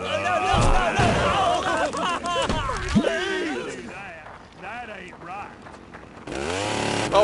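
A chainsaw wielded by an enemy in the Stubbs the Zombie video game, revving loudly in bursts amid game clatter and thuds, with excited voices talking over it.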